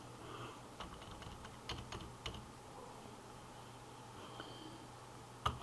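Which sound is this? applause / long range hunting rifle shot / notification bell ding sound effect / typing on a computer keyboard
typing on a computer keyboard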